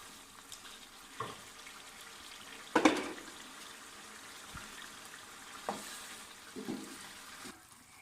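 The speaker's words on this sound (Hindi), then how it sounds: "अब हम इसका ढक्कन उतार के इसको 5 मिनट के लिए ऐसे ही भून लेते हैं।" Yogurt chicken curry browning uncovered in a pan, giving a quiet steady sizzle with a few louder stirring scrapes and clatters, the sharpest one near the middle.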